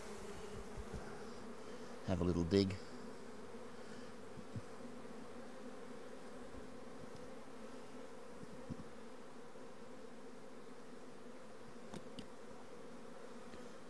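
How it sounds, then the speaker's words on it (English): Honey bees buzzing steadily over drone comb during a Varroa mite drone-trapping inspection, a dense continuous hum throughout with a brief louder burst of handling noise early on and a few quiet words spoken. "Shake some bees off here and"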